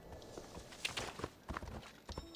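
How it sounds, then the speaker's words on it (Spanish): Horse hooves clip-clopping at a walk while riding in Assassin's Creed Odyssey, a steady uneven run of soft thuds over a busy game background, brief and moderately close. "ahora cogemos el caballo de nuevo y seguimos viajando hacia"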